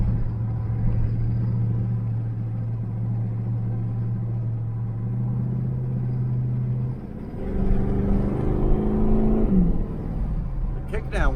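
A 1982 Chevrolet El Camino on a test drive, low steady engine drone that rises as the engine revs and accelerates in a rumbling surge, with someone talking over it.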